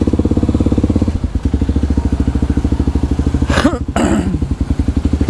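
An enduro motorcycle engine runs loud and close, a steady rapid thrumming pulse with a brief rev surge near the end.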